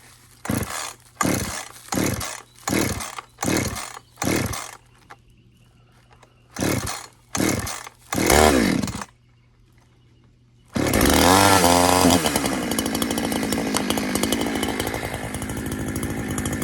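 A Husqvarna 350 chainsaw with a ported muffler is cold started: eight or so rhythmic pull-cord rips, a brief sputter, then the engine catches and idles loudly and steadily nearby.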